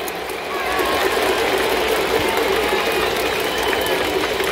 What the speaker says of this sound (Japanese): すごい声援じゃないですか